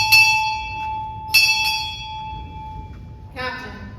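A ship's bell at a Navy change-of-command ceremony rings in two quick pairs of clear, sustained strikes for an arriving officer, the tones ringing on before a voice calls out briefly.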